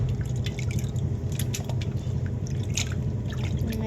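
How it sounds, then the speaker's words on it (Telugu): Fish pieces are rinsed in water, with continuous splashing, dripping and squishing close by as the hands work them, steady with no pauses. "తోమేసిన వాటిని మళ్ళీ ఇంకొకసారి కడుక్కొని శుభ్రంగా ప్లేట్లోకి తీసుకోవాలి"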